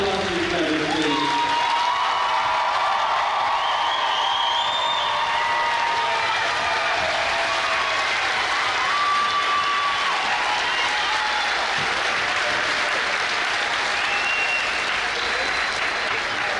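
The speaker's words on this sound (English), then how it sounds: "Audience members, one round of applause for each other" Sustained audience applause fills a high school commencement ceremony at Galesburg High School, a dense steady roar of many hands clapping from start to finish with a few scattered cheers and voices mixed in.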